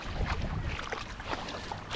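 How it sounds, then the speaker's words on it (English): Gentle sea waves washing in at La Caleta beach in Cadiz, Spain, a steady close wash of surf with some wind buffeting the microphone, heard alone without talk. "Oh, I love those gentle waves."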